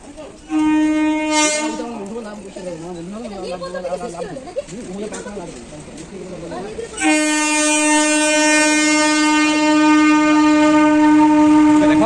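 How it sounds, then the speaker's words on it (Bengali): A train approaches a railway level crossing and sounds a long, loud multi-tone horn in two blasts, separated by a wavering, sirenlike passage, with rumbling rail noise underneath. "ওই যে ট্রেন আসছে।"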